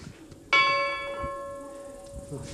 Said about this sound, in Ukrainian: Це давні дзвони.